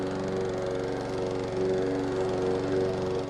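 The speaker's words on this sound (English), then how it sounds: "That sound, a lawnmower starting up, is what kick-started a movement." A lawnmower engine runs at a steady, loud drone, its rhythmic mechanical pulse held close and constant throughout with no voices.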